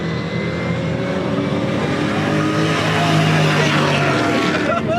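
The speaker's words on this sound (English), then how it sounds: "Hung out long enough to catch some drag racing" Trucks drag racing at the C10 Nationals in Nashville, a loud, continuous engine roar that swells toward the middle and holds steady, close and dense with crowd-level noise underneath.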